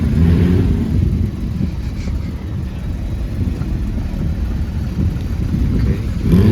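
Porsche GT3 RS engine idling and revving nearby on a street, a steady low rumble with no speech.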